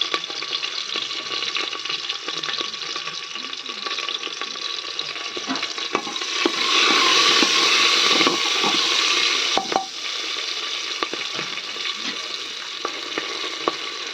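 Garlic, green chillies and cumin seeds hit hot oil with a loud, close, steady sizzle that swells briefly midway before settling back, with occasional clinks of a utensil and no one talking.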